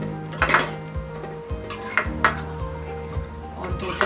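A utensil stirs dal in a metal cooking pot over a low gas flame, with repeated clanks and scrapes against the pot at an uneven rhythm, loud and close, with ringing metallic tones between strikes.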